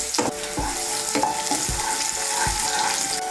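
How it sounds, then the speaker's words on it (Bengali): Chopped carrots frying in a pan for fried rice, close sizzling broken by several firm stirring scrapes and knocks of a spatula at irregular intervals, no talking. "এর মধ্যে আমি দিয়ে দেব গাজর কুচি। গাজরটাকে আমি একটু ভেজে নেব।"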